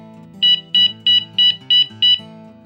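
Six short, shrill electronic beeps in a quick, even rhythm from a Guntack hunting dog collar beeper, loud over a faint low hum.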